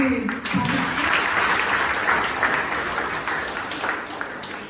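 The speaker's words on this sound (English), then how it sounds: "A big applause for all" Clapping from the audience at a college mock trial event honouring participants, a dense steady patter filling the room with a voice briefly at the start.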